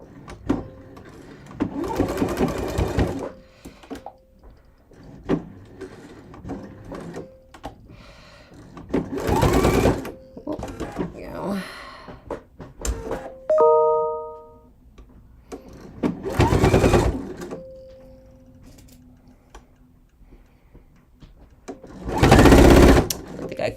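A sewing machine stitches seams and bar tacks at the pocket openings of a hickory-fabric garment, running in several loud, steady bursts with pauses between them, where a person talks and faint notification dings sound.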